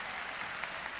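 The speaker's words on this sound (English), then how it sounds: "There's the crowd getting into it a little bit" The crowd at a Big Ten college wrestling match applauds in a steady, fairly faint wash of clapping heard from a distance.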